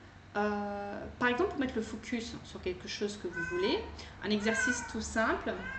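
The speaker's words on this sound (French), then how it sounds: "C'est le chat de mon fils" A pet cat meows repeatedly indoors, several drawn-out, fairly loud cries close by, mixed in with someone talking in French throughout.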